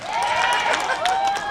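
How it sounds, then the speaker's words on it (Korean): A festival audience applauds in a steady, full wash of clapping, with a voice briefly audible over it. "박수 한번 힘차게 부탁드립니다."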